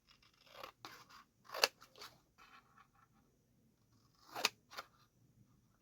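Scissors snip through a paper sketch card in a few short bursts, with sharp crisp cuts and softer rustling between them, close and quiet with long pauses.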